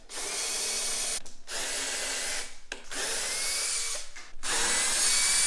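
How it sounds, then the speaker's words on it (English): A power drill whines loudly as it backs out pocket screws holding a wooden kitchen tabletop to its apron, running in four sustained bursts with brief pauses between them, close and steady, no voices. "we're just gonna unscrew it and take the top off"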